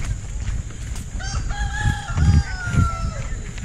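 A rooster crows nearby, a long rising and falling call, with clucking fowl and rumbling background noise around it.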